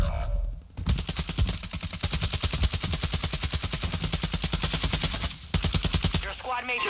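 Rapid sustained automatic gunfire in Call of Duty on Ashika Island, a dense loud burst of shots running for several seconds with a brief pause before a final burst, then faint game voice.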